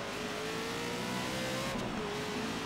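A Ford Mustang Boss 302 engine in Forza Horizon 3 drones and revs steadily at high pitch, a continuous loud motor whine with no talk.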